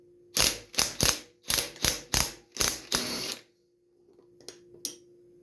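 A wrench loosens a nut on the steering rod of a Craftsman YT 3000 riding lawn mower, giving seven close, loud ratcheting bursts in a steady rhythm, then a pause and two fainter clicks.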